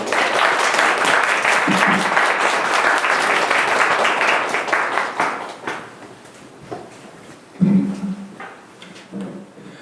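A youth worship congregation gives a big round of applause to welcome a new pastor, loud and dense for several seconds, then thinning into scattered claps with brief murmurs and a few knocks.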